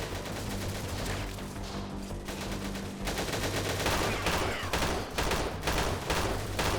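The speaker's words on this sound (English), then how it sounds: "I am being shot from somewhere" Dense gunfire crackles from the Freeman Guerrilla Warfare video game as repeated shots and bursts pile into a loud, continuous fusillade with sharp transients, the firing sounding close and picking up in intensity partway through.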